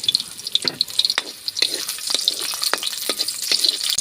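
Garlic sautéing in hot annatto oil in a home kitchen, a steady crackling sizzle with bursts of spattering and the clink of a utensil stirring, close and alone with no talk.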